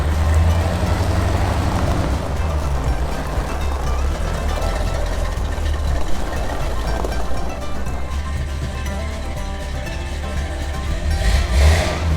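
A 6x6 spud truck being driven, its engine droning loud and steady from up close with a low rumble throughout and a brief rise near the end.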